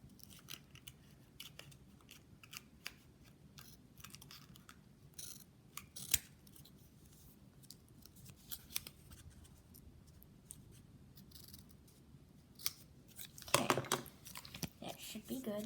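Scissors snip excess paper off a homemade student ID card in a series of quiet, close cuts and crisp paper rustles, ending in a brief louder crinkle.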